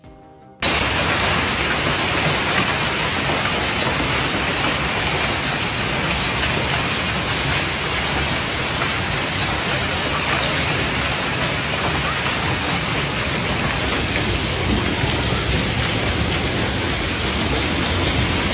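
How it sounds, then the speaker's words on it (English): A hailstorm with heavy rain and gusty winds in Beijing bursts in after a brief quiet moment, then holds as a dense, loud, unbroken roar to the end. "The storm swept into the city with hailstones, rain, and gusty winds that left thousands unprepared."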